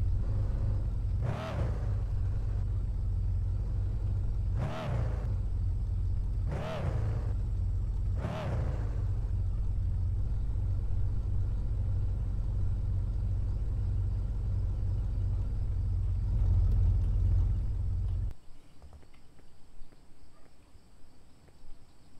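Car engine idling in the Car For Sale simulator game, a steady low rumble with four revving surges early on, then a continued hum before it stops abruptly near the end.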